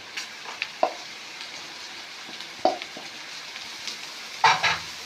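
Minced chicken sizzles steadily in a hot pan while a spoon stirs and scrapes through it in several distinct strokes, close and fairly loud, with no talking.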